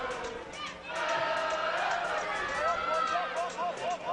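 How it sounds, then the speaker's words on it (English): Wando student crowd cheers and chatters at a high school boys soccer championship match, a broad, steady roar from the stands with shouts rising over it, heard under a commentator's voice. "Here's Wando crowd coming alive"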